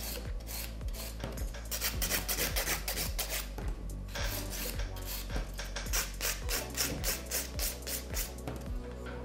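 A nail file rasps over an acrylic nail surface in steady, rhythmic strokes, smoothing it close-up with no talking.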